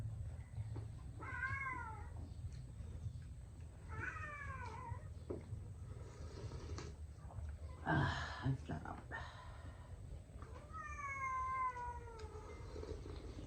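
Cats meow several times, rising and falling cries spaced apart, over a low background hum while people talk quietly nearby.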